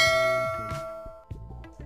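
A bell-like subscribe ding rings out as a bright metallic strike with a ringing decay, followed by a few quieter clanging dings.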